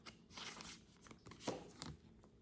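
A light shuffle of tarot cards, a few quick papery riffles and soft card slaps heard close up and fairly quiet, with no talking.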